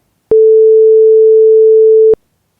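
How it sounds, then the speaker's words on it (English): Steady censorship beep covering a spoken phone number on a true-crime podcast, one loud pure tone lasting about two seconds, starting and stopping abruptly against silence. "I've got to beep that out now, have I?"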